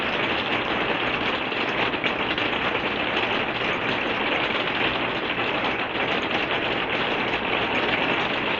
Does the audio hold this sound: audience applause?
no